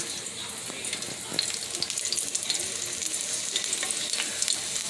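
Beans fried over high heat in a pan for refried beans, giving a dense crackling sizzle with scattered sharp pops and spatters that get busier and louder after the first second.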